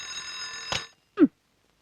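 An alarm clock rings in a film scene, a short bright metallic burst that stops abruptly, followed by a single low thud, all fairly faint and with no one talking.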